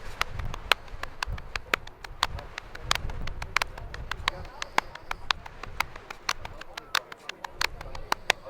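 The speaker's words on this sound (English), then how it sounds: "we're going to do the triplets in groups of 4, but we're going to flam them" Flammed triplets are played on a drum in groups of four, sharp crisp strokes falling in an even rapid pattern with accented groupings, heard close over a low outdoor rumble.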